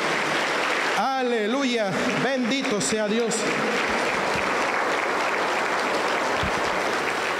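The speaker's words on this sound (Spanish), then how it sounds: "Aplauso para el Señor Jesús." A church congregation claps steadily in praise of Jesus during a service, the applause continuing throughout while a voice speaks briefly over it near the start.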